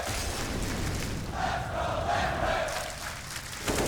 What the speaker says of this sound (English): Crowd starting to get behind them now as well.